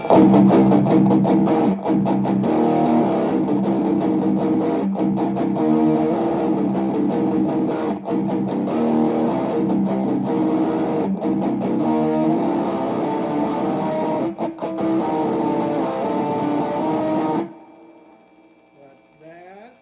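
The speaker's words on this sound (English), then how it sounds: "I'll engage the distortion side of the King of Tone" A heavily distorted electric guitar through the distortion side of a King of Tone pedal plays a chunky, driving riff for most of the stretch, then stops and leaves a fading ring.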